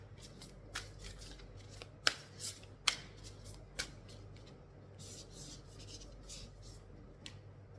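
Tarot cards shuffled by hand in a quiet room, a steady papery riffle and rub with a few sharper snaps and slaps of the deck, soft and close with no talk.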